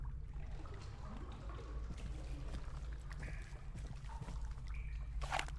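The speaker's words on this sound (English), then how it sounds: "I don't like hearing that extra water noise" Water trickles and pours steadily through a dark cave in the horror game Husk, a low, continuous wash with faint drips and splashes over a rumbling ambient drone.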